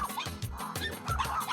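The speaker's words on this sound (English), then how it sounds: "we have another dog barking over there." Dogs yip and whimper in a few short bursts, fairly close, with a busy, noisy background.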